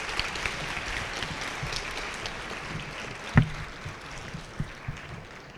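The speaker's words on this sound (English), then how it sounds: "let's give Rachel a round of applause" An audience at an eighth grade awards presentation applauds, a steady mass of clapping from a crowd in a hall with one sharp thump partway through.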